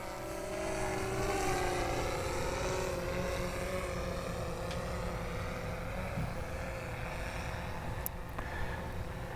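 A SplashDrone 4 waterproof drone flies forward at full speed over a parking lot in the rain, giving a steady, loud, high motor whine with buzzing propeller tones that holds throughout without voices.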